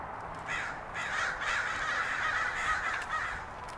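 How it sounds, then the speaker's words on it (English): Many crows cawing repeatedly from a moderate distance, a continuous overlapping chorus of harsh calls with no pauses. "We've easily got two dozen crows hanging around in the trees across the street."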